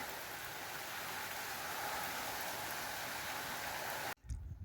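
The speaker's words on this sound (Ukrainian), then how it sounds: "а тепер такий пустився гарний дощ. Не дощ, а злива." Steady, dense downpour of heavy rain roaring evenly for several seconds, then cutting off abruptly near the end into a few quieter close rustles.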